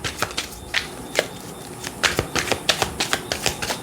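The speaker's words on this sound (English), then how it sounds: "If not, we'll stop shuffling." A deck of oracle cards being shuffled gives quick, crisp riffling clicks and flutters in uneven bursts, close and fairly quiet, with no talking.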